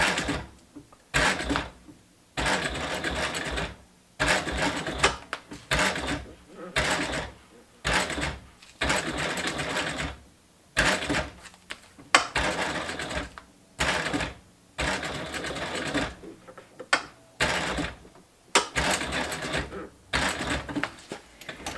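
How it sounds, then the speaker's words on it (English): A sewing machine runs a lock stitch on a sun visor in repeated short bursts with brief pauses between them, going back and forth over the same spot several times, close and fairly loud. "we're going to do a lock stitch"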